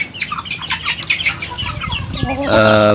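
Free-range chickens cluck and chatter close by, several birds overlapping, with one louder drawn-out call rising at the end.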